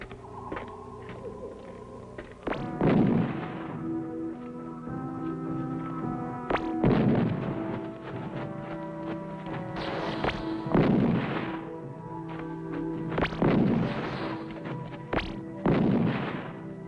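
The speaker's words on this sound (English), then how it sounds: "The electro bombs." Electro bombs explode in a space adventure film, heavy booming blasts arriving roughly every few seconds over a sustained tonal hum, each loud burst decaying before the next.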